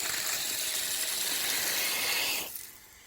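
A strong rush of water pours from a high-flow garden tap fed by a pump, a steady close hiss that stops abruptly near the end, leaving quiet.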